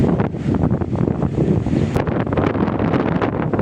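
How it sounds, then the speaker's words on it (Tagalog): Strong wind roars and buffets the microphone in a constant, heavy rush, with faint surf-like noise beneath. "lakas ng hangin, oh"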